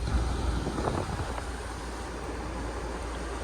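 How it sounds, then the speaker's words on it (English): Air conditioning vents blow inside a 2023 Toyota Highlander LE AWD cabin, a steady broadband whoosh that holds constant throughout the short stretch, with no talking. "Don't mind the sound of the vents."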